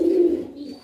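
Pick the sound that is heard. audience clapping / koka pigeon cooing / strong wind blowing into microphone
koka pigeon cooing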